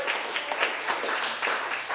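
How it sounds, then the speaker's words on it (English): An audience at a political fundraiser applauds for about two seconds, a steady wash of many hands clapping in a room, moderately loud and without talk. "Give her a round of applause."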